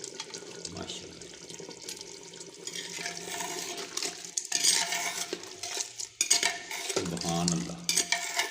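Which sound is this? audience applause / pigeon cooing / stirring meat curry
stirring meat curry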